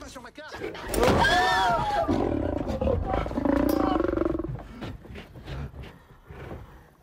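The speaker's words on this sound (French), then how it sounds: "Et surtout un lion qui a laissé un souvenir absolument impérissable à Cadmerade." A large, roughly 400-kilo lion in the bush roars deep and loud at close range in long, rumbling waves that fade toward the end.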